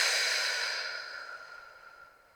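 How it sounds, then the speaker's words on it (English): One deep, loud exhale during a calming yoga session, a breathy sigh close to the microphone that starts strong and gradually trails off. "And really breathing as loudly as you need. Just filling yourself up and then exhaling everything."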